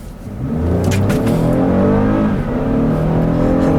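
A 2019 Toyota Highlander SE with a 3.5-liter V6 pulls hard from a standstill on a back road. The engine note climbs steadily and stays loud and close, with a rising harmonic whine and no talk over it.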